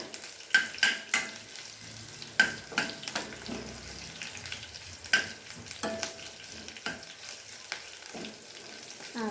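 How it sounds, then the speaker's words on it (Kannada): Green chilies and urad dal fry in a pan while a spatula scrapes and stirs, giving intermittent clanks and scrapes over a soft, steady sizzle with no talking. "ಮೆಣಸಿನ್ಕಾಯಿ ಮಾಡಿಸ್ತಾ ಇದ್ದೀನಿ"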